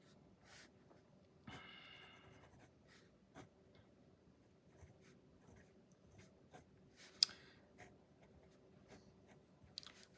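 Hand-writing resistor values with a pen on paper, close by and quiet, scratchy strokes in short bursts with small taps between, no talking.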